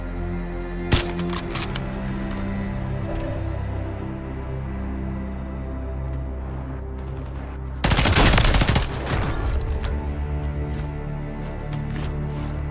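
Gunfire from a weapon in a video game, with a steady backdrop of game noise, a single sharp shot near one second and a loud, dense burst of rapid fire around eight seconds, then ongoing game sounds.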